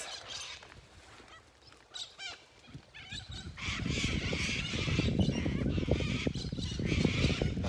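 Birds squawk and honk outdoors on a cool morning, a few scattered calls at first and then a loud, raucous chorus of overlapping cries close by.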